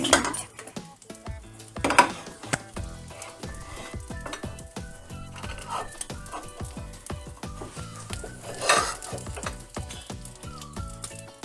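Ends of a Mersin-style tantuni wrap being dipped into hot oil, giving clear close clinks and sharp taps over a faint sizzle, repeated through the clip with no talk.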